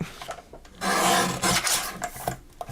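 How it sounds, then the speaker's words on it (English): A Christmas card being cut apart for a craft project, heard up close as bursts of rasping, scraping strokes with short pauses between them. "So I'm going to go ahead and cut this apart"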